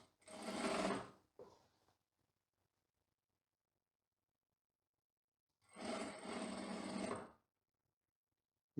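A sewing machine stitches the lining of a women's tailored trouser waistband in two bursts of rapid, buzzing whir, separated by a long quiet pause.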